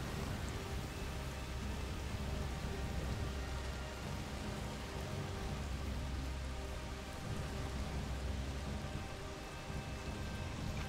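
Steady rain in the video game A Plague Tale: Requiem falls as a constant, dense hiss with faint patter throughout, with no break and no voices.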